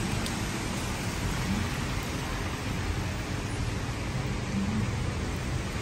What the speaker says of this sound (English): All the heavy raining, guys